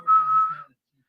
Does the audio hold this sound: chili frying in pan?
no